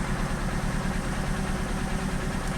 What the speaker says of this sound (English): Let's turn the engine on.